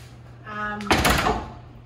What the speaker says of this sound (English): this door closes the bathroom off if you want.